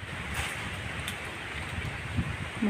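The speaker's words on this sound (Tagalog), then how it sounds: "Mahangin talaga guys" Strong wind gusting outdoors near a fenced corral while gathering star apple fruit, a steady broadband rush with buffeting microphone noise and a few low thumps, fairly close and continuous.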